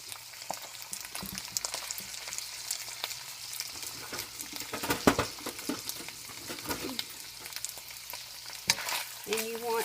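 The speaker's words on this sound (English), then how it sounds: "And you want to saute your onion real well." Half a large onion, chopped small, sautés in a pan for a macaroni and cheeseburger bake, giving a continuous close sizzle broken by stirring clatter and scrapes.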